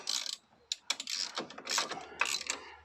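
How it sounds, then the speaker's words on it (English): A ratchet wrench turns a nut on the suspension of a Vauxhall Astra G MK4 during a lowering spring replacement, giving short, quiet bursts of close clicking with brief pauses between strokes. "Let me just get the ratchet on there."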